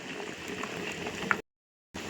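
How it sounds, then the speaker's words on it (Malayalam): A pot of fish curry with small fish bubbles and simmers steadily up close, a soft continuous boiling hiss, briefly cut to silence before resuming. "എന്നാൽ മീൻകറി തിളച്ച് തുടങ്ങിയിട്ടുണ്ട്"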